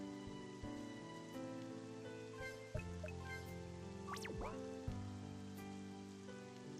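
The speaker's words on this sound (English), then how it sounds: "This rain is cold." Cold rain falls in the video game Northwall, a soft steady patter of drops on surfaces that stays faint beneath layered musical tones and a few brief chimes.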